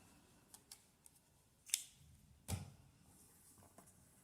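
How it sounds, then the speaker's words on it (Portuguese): Scissors snipping crochet yarn while finishing an amigurumi doll: a few faint ticks, then one or two crisp close snips, all very quiet. "Vou cortar aqui o fio com espaço que dê para fazer costura."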